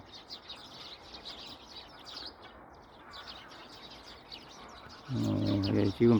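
Small birds call in a foggy, drizzly winter early morning, their faint, repeated high chirps scattered over damp background noise. Someone speaks briefly, and a louder burst of sound comes near the end.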